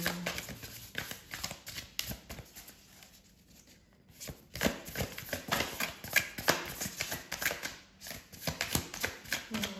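Crisp, rapid riffling of cards in bursts, pausing briefly midway before the shuffling resumes close by.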